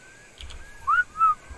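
A short whistle command sounds in Ark Survival Evolved, two brief rising tonal chirps near the end over a faint ambient background, with no talking.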